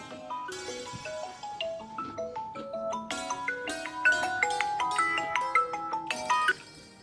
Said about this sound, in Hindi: इसका फोन आ रहा है, इसे देख लो।